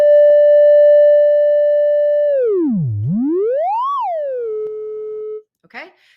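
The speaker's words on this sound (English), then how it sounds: "So this is a sine wave. It sounds like this." A pure synthesizer sine wave holds a steady tone, then sweeps down sharply, glides back up and settles at a lower pitch, loud and alone before cutting off into a brief trailing blip.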